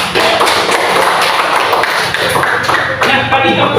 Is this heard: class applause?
yes